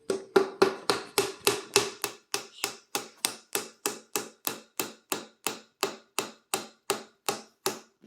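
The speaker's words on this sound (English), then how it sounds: "Put it in there as much as you can. And let's start hammering him." Steady, evenly spaced hammer blows driving a wooden dowel into a drilled hole, about three per second, repeating for roughly twenty-five strikes.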